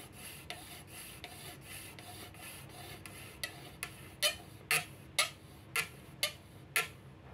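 Rhythmic rasping strokes of a heated thin zinc wire sawing through a pipe, starting soft and growing louder and sharper toward the end, roughly two strokes per second.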